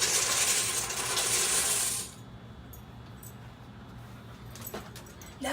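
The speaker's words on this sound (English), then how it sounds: "So now I'm going to pour the box of pasta in the pot." Dry pasta is poured from its box into a pot, starting as a bright rattling rush that cuts off abruptly after about two seconds, then a few faint clinks.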